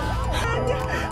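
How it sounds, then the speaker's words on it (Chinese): Ambulance siren wailing continuously with a rising and falling tone, steady and fairly loud over traffic rumble, brief and close. "这时救护车来了"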